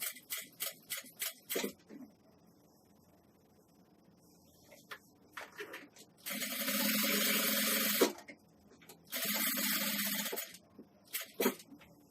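A sewing machine stitches a nursing pillow in two sustained whirring bursts, each a couple of seconds long, between quieter stretches of small clicks and handling noises.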